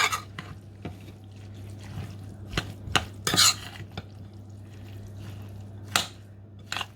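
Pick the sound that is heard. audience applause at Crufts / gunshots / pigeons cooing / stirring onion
stirring onion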